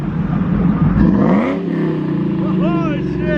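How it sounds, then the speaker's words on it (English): Supercharged 425-horsepower Ford Lightning pickup at a car meet, its engine revving loudly and close, rising in pitch as it accelerates. People talk over the engine sound. "that Ford Lightning sounds like the shit. That's 425 horsepower for you with that supercharger"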